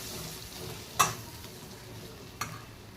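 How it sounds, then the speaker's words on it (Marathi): Tomatoes are stirred into chana dal bhaji in a pan, with a soft steady sizzle beneath two brief clanks of the spoon against the pan, one sharp and one lighter. "टमाटर घालून छान हलवायचे आहे"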